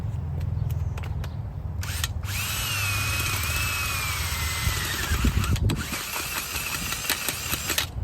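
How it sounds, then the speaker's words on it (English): A powered auger bores a hole in garden soil for planting Juliet tomatoes by a trellis, its motor whining loudly and steadily up close after a few short starts, then grinding roughly as it bites into the earth. "I'm going to use my auger to dig the hole."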